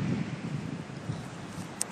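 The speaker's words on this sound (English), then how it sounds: "So between wind gusts here" Gusty wind buffets the microphone outdoors, a steady low rumble swelling and easing over two seconds with no one speaking.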